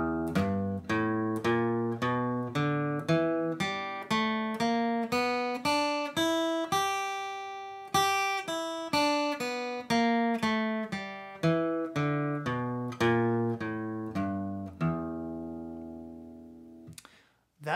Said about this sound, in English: so the blues scale sounds like this.